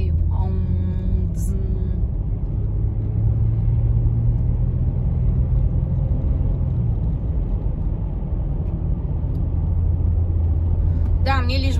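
A car engine rumbles steadily at low pitch as the vehicle drives along, a constant in-cabin drone with faint sounds over it near the start and end.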